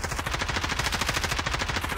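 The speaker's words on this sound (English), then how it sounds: "now they're running after the guy who's shooting" Rapid automatic gunfire in the VRChat virtual world, a steady rattling burst of shots that runs unbroken throughout, fairly loud with no talking over it.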